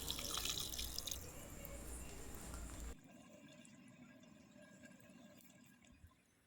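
Tap water pours into a pan of pepper chicken fry for about three seconds, a loud steady splashing stream that stops abruptly, leaving a quiet simmer and faint kitchen noise.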